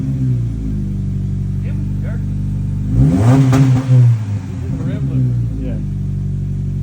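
Subaru Crosstrek engine revved briefly through its exhaust, a steady low idle rumble swelling into a louder rev burst midway before settling back, with a voice speaking briefly over it.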